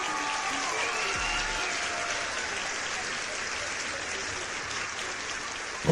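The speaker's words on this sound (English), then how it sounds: "Round of applause" An audience gives a steady round of applause, a dense wash of clapping that holds for several seconds before ending abruptly.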